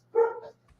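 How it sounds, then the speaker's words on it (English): A dog gives one short, close bark with a brief tonal tail that trails into a faint whimper-like note, standing alone against quiet background hum. "Yeah, dogs. We love dogs."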